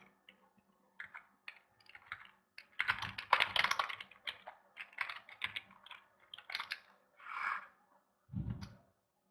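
Quick irregular tapping on a computer keyboard as an email is typed, in close bursts of keystrokes separated by short pauses, ending with a couple of heavier key presses; no talking.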